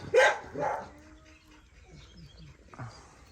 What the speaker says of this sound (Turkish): Bir iki tane köpek sürekli portakal yemek istiyor.